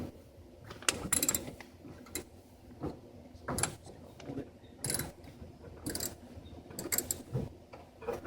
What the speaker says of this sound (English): It's a lot easier to use a socket on those.